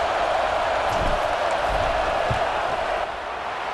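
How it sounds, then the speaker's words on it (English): Stadium crowd in EA Sports College Football 26, roaring as a field goal unit lines up for a kick: a steady, dense wash of distant cheering and noise that dips slightly near the end. "This crowd trying to do its part to get inside the kicker's head."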